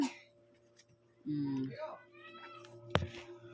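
Pet cat Monchi gives a short meow at close range in a quiet room, followed by a few fainter chirps and a sharp knock near the end.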